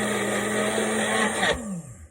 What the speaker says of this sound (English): blend it in my bullet